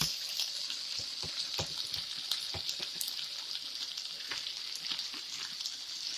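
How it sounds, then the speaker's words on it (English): Turkey Salisbury steak patties fry in a pan with a steady, dense sizzle and spatter, scattered with brief pops and the clatter of flipping throughout. "Flipping that one over. And I'm about to put my last one in."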